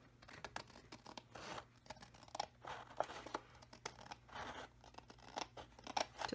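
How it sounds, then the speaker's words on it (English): Scissors trim along the side of a paper sunflower mini album, giving a quiet run of close, crisp snips and slicing crunches in an uneven rhythm with no talking. "it looks like I need to come in here and trim along the side"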